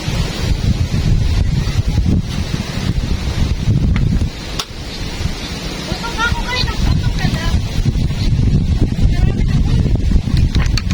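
Strong wind buffets and roars across the microphone in continuous heavy gusts, with a brief lull midway and faint voices beneath.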